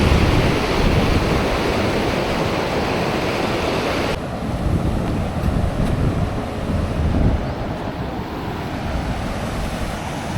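Loud, continuous rush of fast-moving floodwater in the Mula Vagu stream at Vemulawada after heavy rain, roaring and churning steadily throughout with a windy edge, no voices heard.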